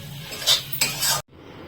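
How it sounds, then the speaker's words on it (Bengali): Spices fried for a small-shrimp dish under brief stirring: two quick scraping strokes of a utensil against the pan over a low sizzle, then an abrupt cut to quieter background. "এখানে মশলা কষাচ্ছি"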